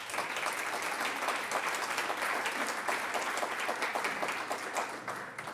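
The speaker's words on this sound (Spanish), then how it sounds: "Un aplauso para ella" Steady applause from a seminar audience at a pension reform event, many hands clapping in an even, sustained wash throughout, fairly close and uninterrupted.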